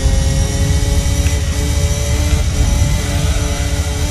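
A race car engine at full throttle out of a corner in Gran Turismo 3 A-Spec, a steady, loud, high droning whine held without a break and with no voices.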